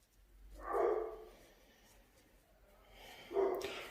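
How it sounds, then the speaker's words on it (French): Dogs bark indoors in two short, muffled bursts a few seconds apart, faint and somewhat distant, with no talking. "Les chiens n'arrêtent pas."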